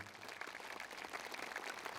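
A crowd at a ceremony marking the 65th anniversary of the Incheon landing operation applauds steadily, a dense, even patter of clapping throughout the brief moment.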